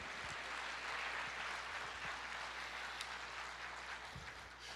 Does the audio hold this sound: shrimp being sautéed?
no